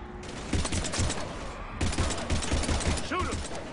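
Sustained heavy gunfire from Mass Effect 3 combat pours out in dense rattling bursts with a short lull, loud and continuous, with faint game chatter in the mix.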